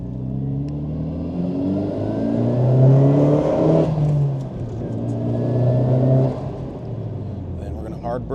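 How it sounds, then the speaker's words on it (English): A 2000 Nissan Silvia S15 Spec R accelerating, its engine rising in pitch and rumbling steadily from inside the car, with someone talking over it. "And we will give it a little bit more gas here"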